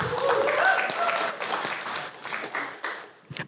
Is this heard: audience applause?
yes